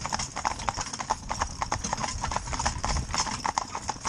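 Hooves of a harnessed stallion and two geldings clip-clopping in a steady, busy rhythm on a hard road surface, continuous and close, with a constant outdoor rumble underneath.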